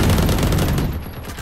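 A loud, dense burst of rapid gunfire in a video game, the volley dropping away toward the end of the second and a half.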